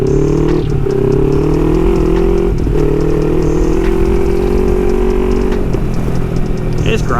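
A Kawasaki Versys 300X motorcycle rides over crazy loose gravel, its engine droning steadily and loud throughout with a rough, clattering texture from the road surface, and no break in the sound.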